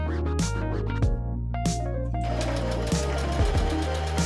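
A sewing machine stitches boning channels on a Renaissance-style corset, running in short bursts with brief pauses between, close and fairly loud, with no voices.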